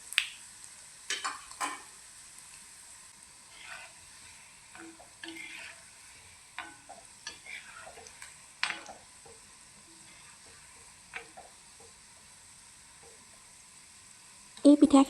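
Pitha, Assamese rice cakes, frying in oil over a medium flame. Soft, faint crackling and sizzling comes in scattered bursts, with a few light ticks and a louder clatter at the very end.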